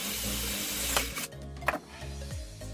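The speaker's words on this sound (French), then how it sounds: "Alors maintenant je passe au perçage de carré d'aluminium" Makita 18V impact drill-driver boring a 6 mm hole through square aluminium tube in drilling mode at speed 2, motor whining steadily with pitch shifts and scraping clicks as the bit bites and breaks through.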